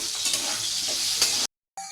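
Chopped potatoes and banana flower fry with salt, turmeric and spices in a hot pan, giving a loud, steady crackling sizzle that cuts out briefly near the end before resuming.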